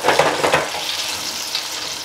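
Batter-coated pear wedges bubbling and crackling in a deep fryer, a steady close sizzle with a few louder pops at the start.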